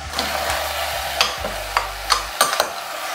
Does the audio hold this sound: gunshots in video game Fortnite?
no